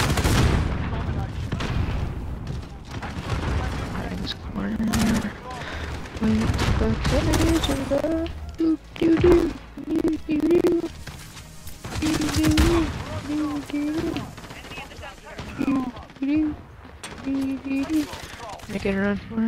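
Rapid gunfire bursts and explosions from a first-person shooter match on the Road to Damascus map, loud and repeated throughout, with game audio and someone talking over the shooting.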